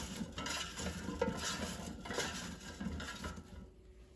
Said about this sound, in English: I will toss with my hands so the cauliflower is coated with olive oil